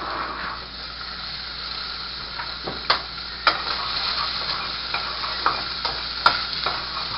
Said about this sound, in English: you want to saute them up so they'll get all nice and tender